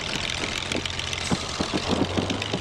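The engine of Spitfire ML407 runs at a low, rumbling idle at Sywell aerodrome, heard from the cockpit with the canopy open. A steady, fairly faint drone carries irregular knocking pulses.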